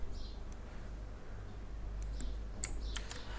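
Soft, scattered keystrokes on a computer keyboard while working on an e-book store design, a few faint clicks clustered near the end over a low steady hum, with no talking.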